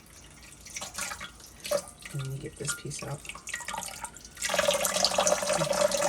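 Running tap water drips and splashes as salmon roe is gently rinsed by hand, with fingers working through the eggs and a louder stream toward the end; a person talks briefly over it.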